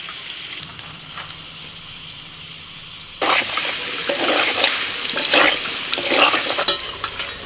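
Cardamom, cinnamon and cloves drop into hot oil left from frying potatoes, setting off a sudden loud, steady crackling sizzle after a few quieter seconds.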